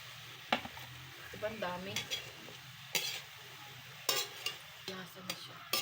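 Tofu stirred and frying in a pan: a steady soft sizzle under repeated scraping clinks of a utensil against the pan, with a brief spoken remark in between.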